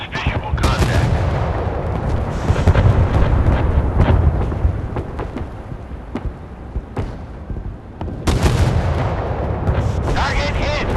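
Warship artillery in the Force of Warships video game booms in repeated broadband blasts across the whole stretch, with dense rumbling battle noise in between, loud and close, under intermittent game voice callouts.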